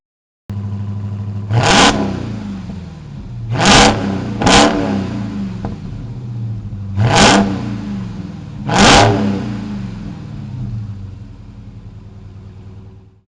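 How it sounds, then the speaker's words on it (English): A 2021 Dodge Charger SRT Hellcat Redeye Widebody with dual exhaust idles with a deep rumble, then is blipped five times in sharp, loud revs that each fall quickly back to idle before the engine shuts off. "let's go ahead and hear how that dual exhaust sounds"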